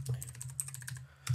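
Quick, light tapping on a computer keyboard while writing a MATLAB function, a steady run of close keystrokes with a short pause before a final cluster, and no voices.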